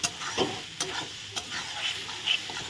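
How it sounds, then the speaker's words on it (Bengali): A spoon stirs spices in a pan for a vegetarian Bengali greens and soybean dish: several short scraping strokes over a soft, continuous sizzle, fairly close and moderately loud. "এখন একটু ভালো করে আমি একটু নেড়ে চেড়ে নিই"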